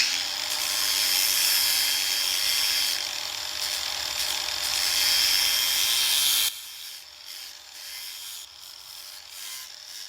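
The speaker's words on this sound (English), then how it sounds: "So I'm just gonna take this flat disc and go across the top very carefully." A flap disc on a power tool grinds across the pitted top surface of an engine intake manifold, a loud high steady whine and rasp that cuts off abruptly, leaving a quieter spinning hum.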